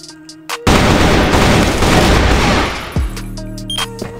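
AK rifle fire in CrossFire, a loud, dense sustained burst of gunshots close up that runs about two seconds, then trails into quieter game sounds.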